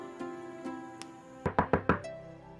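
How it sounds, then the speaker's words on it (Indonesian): Knocking on a door, four quick firm raps in a tight rhythm, near and clear, following a few light taps and a soft background musical tone. "kayaknya ada yang ngetok pintu ya?"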